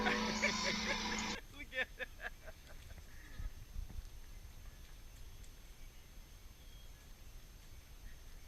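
A goat on Manjack Cay gives one loud, close bleat at the start. Quieter outdoor background and faint rustling follow.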